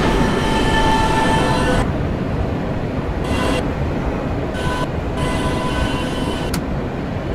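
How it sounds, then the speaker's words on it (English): A New York City subway B train bound for Brighton Beach via the Q line rumbles along in a steady, loud, continuous roar of wheels and carriage noise, with brief brighter swells of rail hiss. "This is a Catlin-bound B train via the K line."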